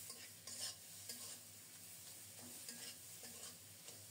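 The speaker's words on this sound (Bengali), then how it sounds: "টমেটোর জলেই মশলাটা খুব সুন্দর মতো কষানো হয়ে যাচ্ছে" Masala for a Bengali fish-head dish is stir-fried in tomato juice in a pan, a faint, soft sizzle broken by repeated scraping stirs at an uneven rhythm, with no voices.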